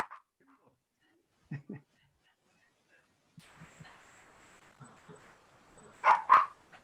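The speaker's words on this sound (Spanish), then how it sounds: "Ahí viene esa perra." A female dog barks in a couple of short bursts, close and fairly loud near the end, after quieter earlier sounds, with people speaking intermittently.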